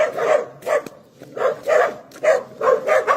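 Several dogs bark repeatedly in a steady series of loud, close barks, about six or seven in a row with no talking.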